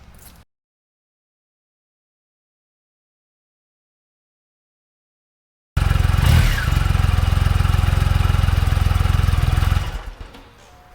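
A motorcycle engine runs loudly and close by for about four seconds after a long silent gap, then cuts off abruptly, with a steady low rumble throughout.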